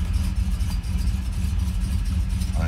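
A Ford Ranchero engine running at its first start of the year, a steady loud low rumble with slight fluctuations and no talk.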